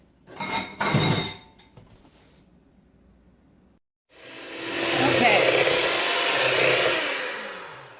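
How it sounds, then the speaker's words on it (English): Applesauce, brown sugar and oil being mixed in a bowl for an autumn spice cake, with a few clinks of the utensil against the bowl, then a steady, loud scraping rush lasting several seconds. "I'm going to mix this up, scraping the sides just until it's combined"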